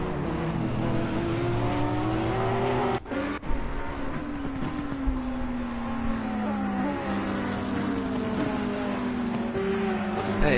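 Porsche race cars accelerate out of the Melbourne hairpin at Donington Park, several engines droning and rising in pitch together, loud and continuous apart from a brief gap, with faint voices underneath.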